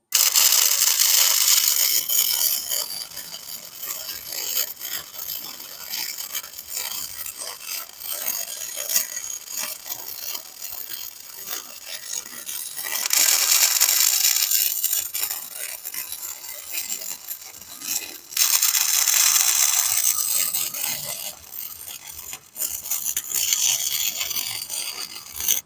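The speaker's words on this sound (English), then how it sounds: "I'm going to go ahead and fully weld the outside." MIG-style welding of tabs onto a mini bike frame gives crackling, hissing bursts of arc noise. Three longer welds are separated by quieter gaps, close and steady.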